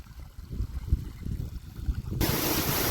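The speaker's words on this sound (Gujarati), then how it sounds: "તો એટલું પાણી આવે હવે છે ને આપણે બોરમાંથી." Water gushes from a borewell into a peanut field during sowing irrigation, a steady rushing flow that grows louder and fuller near the end, with no talk.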